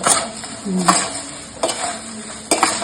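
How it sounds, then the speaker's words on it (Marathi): A spoon stirs fried garlic through poha chivda in a pan, three rhythmic scraping, rustling strokes against the metal with a faint sizzle between, close and fairly loud, no talking. "आता हे सगळं मी मिक्स करते"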